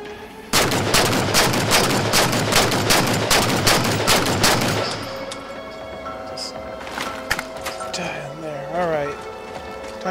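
Rapid automatic gunfire in Halo 4 on Legendary, a fast steady burst of shots for several seconds before it stops, followed by scattered electronic game sounds and talk.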